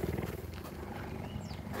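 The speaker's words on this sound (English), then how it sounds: "You can hear him purring as well." A cheetah purring up close, a low rhythmic rumbling throb that pulses steadily and continuously throughout.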